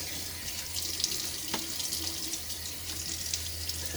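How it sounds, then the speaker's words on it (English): Tap water runs steadily into a sink for splashing onto the face before a wet shave, a continuous close hiss and patter with no talking. "let me throw some water on my face."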